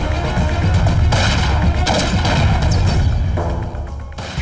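Movie gunfire from handguns cracks in a dense, continuous barrage with thuds and crashes, loud and layered over a heavy soundtrack.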